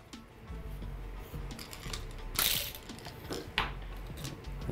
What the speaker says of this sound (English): unscrew the top portion of the pump